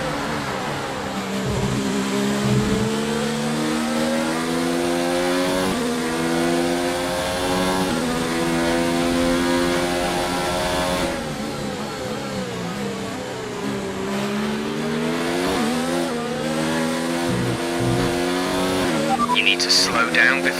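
A Formula 1 race car in F1 2019 roars in a continuous, high-revving engine drone on the final lap of the Australian GP. The pitch climbs and dips with gear shifts, and a radio voice speaks over it.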